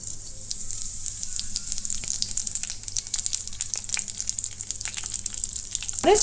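Radhuni seeds sizzle in a little hot oil in a wok for a greens and potato dish, a steady close crackling hiss that runs throughout with no talking.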